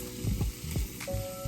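Apple fritters browning in melted butter in a pan, giving a soft, continuous sizzle with gentle bubbling and a few light taps of a utensil, quiet and close.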